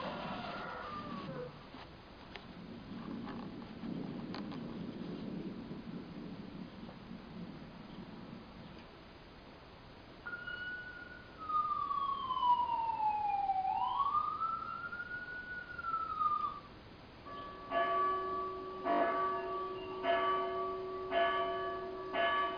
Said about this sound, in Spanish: Sirena, pájaros, El viento.